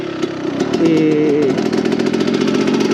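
A Yamaha YZ 125 two-stroke motocross bike engine revs hard during a wheelie, a loud, close buzzing whine that rises then holds at high revs with a rapid rasping pulse.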